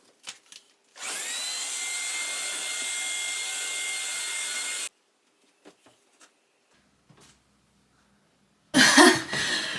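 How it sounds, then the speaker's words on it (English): Household vacuum cleaner hoovering up debris after a declutter, running as a steady loud whine for about four seconds before cutting off, followed by scattered faint knocks and a final burst of rustling noise. "now let me quickly hoover up the mess that all that made"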